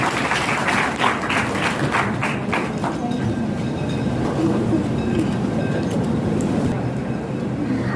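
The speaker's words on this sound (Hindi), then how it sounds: "तालियां हो जाए।" An audience at an honour ceremony for women, held by an education committee, breaks into applause, with sharp individual claps at first that merge into a dense, continuous roar of clapping throughout.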